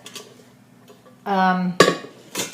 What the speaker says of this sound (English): I'm just going to use a pot today because I don't want to use my smaller cast iron.